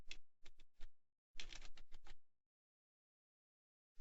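Keys on a computer keyboard, typed in quick separate taps and then in a denser burst of clicks, followed by silence and one last tap, close and quiet.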